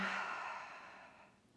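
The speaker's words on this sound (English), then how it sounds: "And breathing here." A single long, soft exhale during a yoga stretch, heard close and fading gently to quiet.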